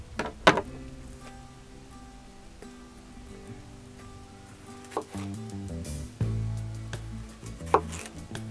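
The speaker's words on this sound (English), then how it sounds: "I have to chop up a couple of ingredients, starting with a red pepper" A knife chops a red pepper on a board with a few sparse, quiet thuds spaced seconds apart over a faint, low background.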